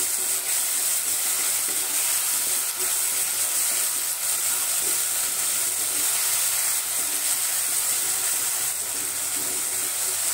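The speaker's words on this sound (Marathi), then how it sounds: "टोमॅटो आपण मऊ होईपर्यंत परतून घेऊया." A tomato softening in hot oil in a pan for a Marathi matki and drumstick potato aamti, giving a steady, close sizzle and hiss that holds evenly throughout with no talking.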